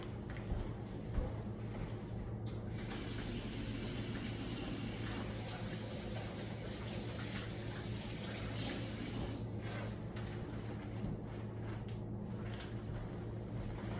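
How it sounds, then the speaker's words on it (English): Tap water runs steadily into a sink while hands are washed before baking cookies, a close, continuous splashing rush with slight changes as hands move through the stream. "we're gonna wash our hands."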